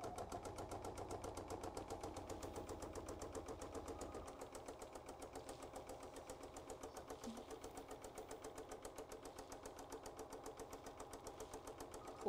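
An embroidery machine stitches a trapunto tack-down with a fast, even mechanical rattle that runs throughout, quiet and close, and its low hum drops a little partway through.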